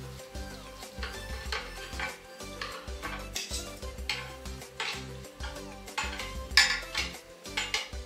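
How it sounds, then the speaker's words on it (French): A knife carving a tray of oven-roasted leg of lamb with potatoes, giving repeated close scraping and clinking strokes against the dish and cutlery, with music playing underneath throughout. "Et je vais couper un peu de viande."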